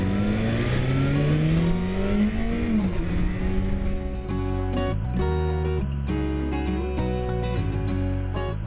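A 2007 Yamaha FZ6 motorcycle with about 35,000 miles on a road ride through western New York, its engine droning loudly and rising in pitch as it accelerates, then dropping through shifts, with steady wind rush underneath.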